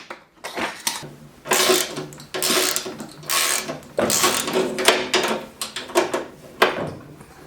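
A ratchet wrench from a wrench set turning while working on a snowblower, with loud repeated clicking bursts in rhythmic strokes, close up.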